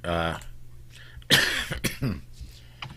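One sharp, loud cough breaks out close by, followed by a rough throat-clearing rasp. A voice comes just before it.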